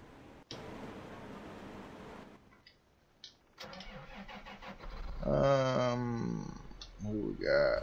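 A combine harvester engine in the video game Farming Simulator 17 straining to climb a hill, rumbling low and steady beneath someone talking, with brief pauses.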